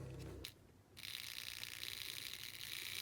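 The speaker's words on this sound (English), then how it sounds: "Let's see if our motor spins." Small electric motor of a vintage Rivarossi HO scale Big Boy locomotive spinning dry, a steady high-pitched whir with a fine rattling texture that starts up after a brief pause and runs on continuously, close and alone.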